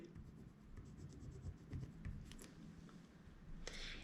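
Pen scratching steadily across paper at close range, a continuous soft rasp with brief strokes and taps, no voices.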